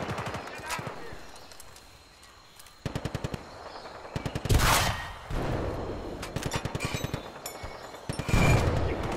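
Rapid machine gun bursts in the Battlefield Bad Company 2 campaign, several rattling volleys separated by pauses plus a heavy boom midway, with someone talking over the gunfire.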